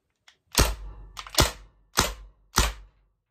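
A TMC Homedefender airgun fires four sharp, loud shots spaced roughly half a second to a second apart, each a crisp snapping pop with a brief thud, close by, with faint clicks between shots and no talking.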